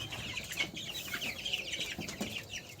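About a hundred hens kept in a paper-curtained shed during winter cluck softly and continuously, several overlapping calls at low volume with no talking.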